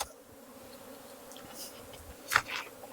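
Honey bees dumped into a nuc box, a low steady insect buzz throughout with a brief rattling thump near the end as the colony drops in.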